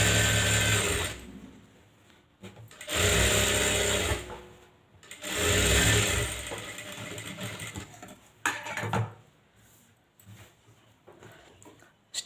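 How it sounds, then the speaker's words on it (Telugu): A sewing machine stitching a long straight seam on a blouse lining, with several whirring runs of stitching separated by pauses and quieter mechanical clicks near the end. "ఇలా ఉల్టా మీద పెట్టేసి పొడవుగా ఒక లైన్ స్టిచ్ వేసుకుంటే"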